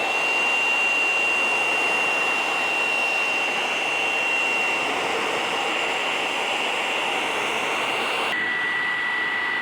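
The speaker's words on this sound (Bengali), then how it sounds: "কারো ঘরে যদি এমন হেয়ার ড্রায়ার থাকে, তাহলে নেবেন। নেওয়ার পর ফুল স্পিডে দিবেন।" A hair dryer blasts at full speed, a loud, steady whooshing roar of air with a thin high whine, running alone without pause; near the end the pitch of the whine shifts slightly lower.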